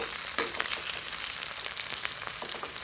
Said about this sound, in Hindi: सारी टिक्कियाँ सारे कबाब हमने इसी तरह फ्राई कर लेने